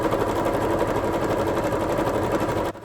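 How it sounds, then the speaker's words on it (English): A sewing machine running continuously on an outdoor patio, a steady buzzing hum with a fast rhythmic rattle, close and loud, cutting off just before the end. "this sound of the humming of my sewing machine was going for 2 days straight out on my patio"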